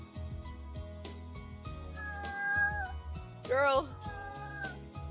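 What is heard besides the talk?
cat meowing loudly in the background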